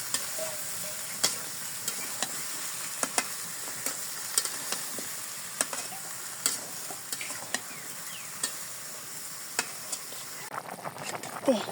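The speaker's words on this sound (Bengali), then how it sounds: "নুন মরিচ লাগবে সব দিয়ে দিচ্ছি, নাড়াচাড়া দিয়ে দিই" A village-kitchen curry with salt and chili added is stirred and fried in a pan. A soft continuous sizzle runs under repeated crisp scraping taps of the spoon through the whole stretch.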